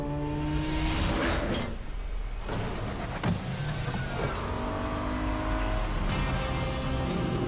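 A Lamborghini Huracan supercar engine roars loud and close, revving and surging with a brief dip near the middle before building again, with no voices.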